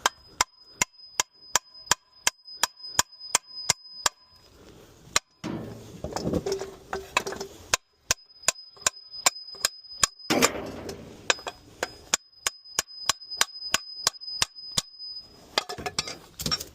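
A hammer striking the side of a suspension part on an S13 drift car to knock it apart, sharp metallic blows in a fast, steady series, close and loud with a ringing tone, pausing briefly twice before resuming.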